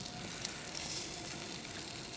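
Minced pork fries in a hot oiled pan, giving off a steady, close hiss and sizzle with no talk over it.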